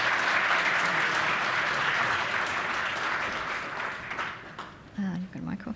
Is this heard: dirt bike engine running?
no